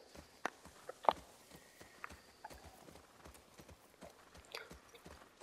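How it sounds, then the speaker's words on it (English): Horse hooves clip-clop faintly at a slow walking pace in The Last of Us Part II, soft scattered steps with a few sharper knocks. "Very good, the horse."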